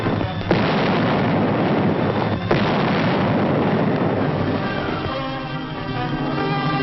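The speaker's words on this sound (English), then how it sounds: "Huge 155mm rifles, long toms capable of hurling a shell for more than 6 miles, go into action." WWII 155mm Long Tom artillery guns firing, heavy booms merging into a dense, continuous rumble on a muffled, narrow-range old film soundtrack.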